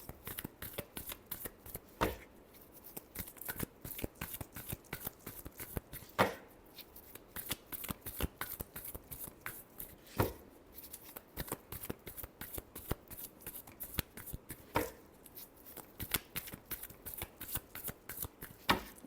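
Tarot cards are shuffled over and over in a steady run of crisp riffling and flicking bursts, with a few louder snaps and taps spaced between the rapid card slides, all close and clear with no talking.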